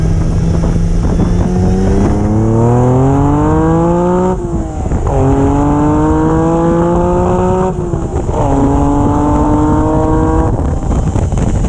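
A Ferrari Dino 246GT engine pulls hard and loud through three rising gear runs, its pitch climbing steadily, dropping briefly at each shift, then climbing again.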